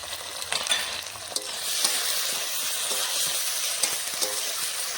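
Spice paste of chilli, garlic, ginger and cumin sizzles and fries in a pan for Bengali chicken kosha, with steady hiss and occasional stirring scrapes, close and alone.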